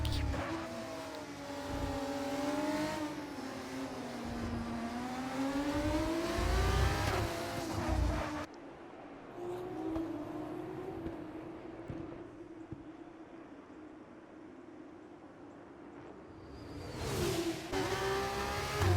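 Grand Prix racing video game engines, including a Dams car on board: a loud close engine note revving up and down through the gears with swooping pitch, then a quieter stretch before the revs rise again.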